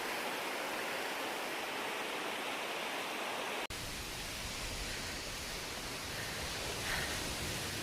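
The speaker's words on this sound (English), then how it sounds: "We made it to Trappers Falls." Trappers Falls in the Porcupine Mountains pours steadily, a broad, constant hiss of rushing water that stays loud and unbroken, with a brief cut partway through.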